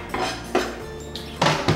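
Chopped onion goes into a fry pan with olive oil while stuffed peppers are being prepared. Close, sharp metallic clanks and clatters of pan and utensil come in several separate hits, with no voices.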